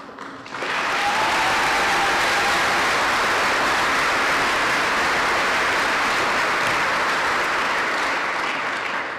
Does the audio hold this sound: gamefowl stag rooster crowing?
no